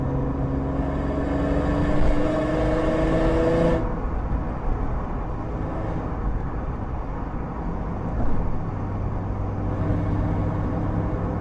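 Ford Mustang accelerating hard, heard from inside the closed cabin, a low engine drone with rising tones that cuts off abruptly, then settles into a muffled steady rumble of road noise, no voices.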